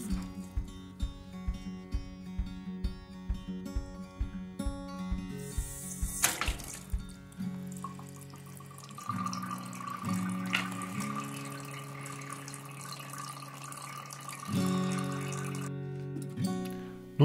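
Water drains from a radiator valve into a bowl, a steady splashing trickle that runs for several seconds over soft background music.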